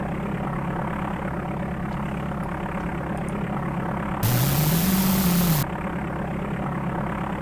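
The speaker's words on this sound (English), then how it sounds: "if you've played Flight Simulator 5, you will recognize the sound of these flaps" A steady engine drone runs throughout, joined midway by a loud, rising electric whine with a hissing layer from aircraft flaps moving in the DOS game Flight Simulator 4, lasting about a second and a half, then stops.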